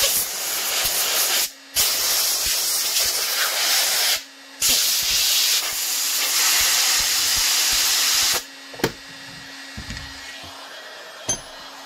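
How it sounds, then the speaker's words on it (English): Compressed air sprays in long, loud hissing bursts with short pauses while building a carbon fiber OWB holster for an FN 509 Tactical, then gives way to a few faint clicks and taps. "Spray with air."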